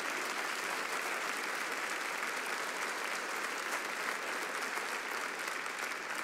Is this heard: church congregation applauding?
yes